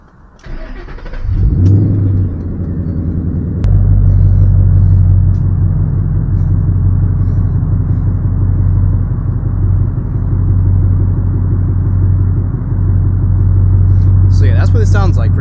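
A 2011 Ford Mustang GT with a Roush axle-back exhaust cranks and fires up, then settles into a loud, deep, rumbling V8 idle close by, with a brief voice near the end.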